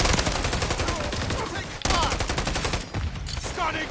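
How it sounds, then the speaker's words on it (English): Rapid light machine gun bursts in a Call of Duty MW3 multiplayer match, a dense run of sustained automatic fire broken by a short gap, then more shots with a voice talking faintly beneath. "Light machine gun?"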